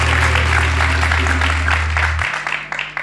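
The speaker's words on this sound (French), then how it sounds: "Alors je voudrais qu'on les applaudisse très fort." An outdoor crowd at a live music show gives sustained applause for the performers, loud and even, over a low steady hum that cuts out partway through before the clapping tapers slightly.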